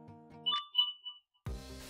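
A text message notification from an Android phone plays on a computer as a short bright chime: a few quick tonal pings, then a brief pause and a fuller tonal burst.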